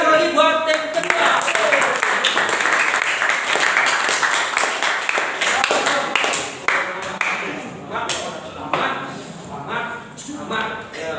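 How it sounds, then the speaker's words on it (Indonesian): A classroom audience at a vocational school physics project presentation claps for a team, loose, sparse and irregular clapping, louder at first and thinning out toward the end, with some voices mixed in. "Oke, tepuk tangan sekali lagi buat tim kedua."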